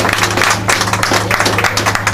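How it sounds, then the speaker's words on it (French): Applause from a crowd at the inauguration ceremony of the Banikouara agency, steady clapping filling the space with a low hum underneath, loud and continuous without a break. "nous allons applaudir pour vous, pour votre amour, pour votre déplacement"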